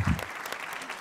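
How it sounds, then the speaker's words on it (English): Audience applause for a performer named Jill at a GiantSteps 2015 talk event, a steady burst of clapping from a crowd lasting about a second, fairly even throughout. "please give Jill a round of applause"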